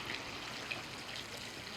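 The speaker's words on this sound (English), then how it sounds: "Fountain with water in it." A steady, soft trickle of water runs in an outdoor town fountain in Rhodes, Greece, a continuous bright splashing hiss with no voices, gentle and fairly close throughout.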